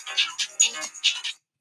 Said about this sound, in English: That's my call ringtone for every resident who's going to call me.